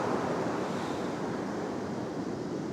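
Ocean surf breaking on a beach in Olympic National Park, a steady, continuous roar of waves washing in with wind noise, loud and unbroken throughout with no voices.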